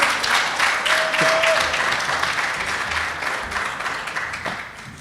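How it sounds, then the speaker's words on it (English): An audience at a university entrepreneurship competition breaks into applause after a presentation, a dense burst of clapping that slowly thins out, with a faint voice briefly audible. "Can you give him a big round of applause?"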